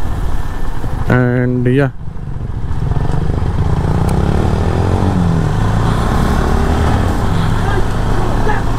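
A motorcycle at Coronation Bridge in East Sikkim rumbles steadily at idle, close and continuous, with a short burst of speech near the start.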